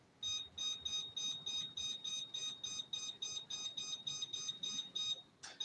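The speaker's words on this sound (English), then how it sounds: "Turn on the timer since I'm standing here." A kitchen timer set for twenty minutes while fries bake gives a steady run of sharp, evenly spaced electronic beeps, close and fairly loud, with no talk over it.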